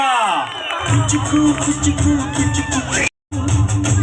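A crowd at a reality-show grand finale stage cheers loudly with whoops and shouts, a dense, continuous roar that briefly cuts out near the end before resuming.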